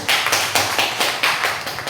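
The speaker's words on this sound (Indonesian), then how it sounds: "Kita berikan tepuk tangan untuk Ibu." Classroom applause for a teacher at an Indonesian school gathering: a small group claps steadily and briskly, close and fairly loud, with no talking.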